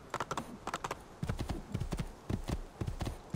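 Horse hooves clip-clop at a steady trot while riding in Assassin's Creed II, a close, rhythmic run of hoof strikes with no talk over it.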